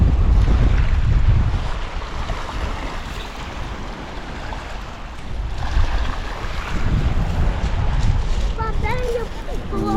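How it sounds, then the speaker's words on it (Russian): Sea waves wash onto a shore in Turkey in spring, heard as deep, rolling surges of water mixed with gusty wind buffeting the microphone, swelling and easing over several seconds, with a faint voice near the end. "Вот какие здесь красивые волны"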